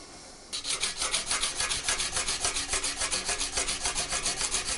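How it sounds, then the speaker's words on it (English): Steady, rhythmic rasping strokes of hand sanding forged 27-layer Damascus steel knife blades, close and loud, repeating at an even pace with no talking. "Next thing we're gonna do is actually hand sand them."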